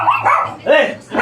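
A dog gives a few quick, yappy barks close by, loud and sharp, in short bursts.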